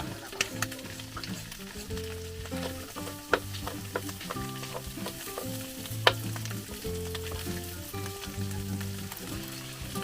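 Garlic and onion sautéing in a pan give a steady close sizzle with repeated stirring scrapes and clinks of the utensil against the pan throughout, with no talk.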